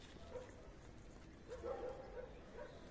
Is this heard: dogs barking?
yes